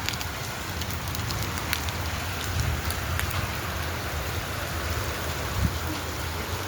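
Steady rain falls outdoors in a broad, even hiss that holds at a constant level throughout, with a few faint louder patters and no voices.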